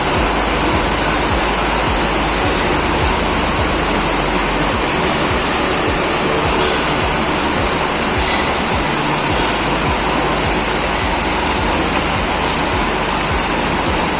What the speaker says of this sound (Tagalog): Kaya nagbabagsakan na yung tubig.